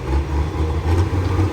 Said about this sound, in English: That tractor hooked up and set in.